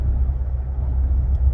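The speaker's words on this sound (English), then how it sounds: "I'm back in my car again." Low, steady road rumble fills the interior of a car, a continuous dense hum with no talking.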